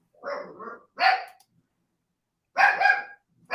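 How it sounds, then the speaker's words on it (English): A dog barks close by in sharp separate bursts, two quick barks, a pause, then another burst, clear against silence. "I think the dog likes Houston"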